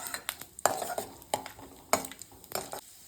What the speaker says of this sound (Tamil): இப்போ அதிலே முந்திரி திராட்சையை வறுத்துக்கலாம்